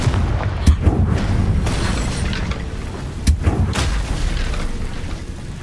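Spell explosions in the Hogwarts Legacy video game, two sharp booming blasts a few seconds apart, each followed by a rumbling crackling decay over low background ambience.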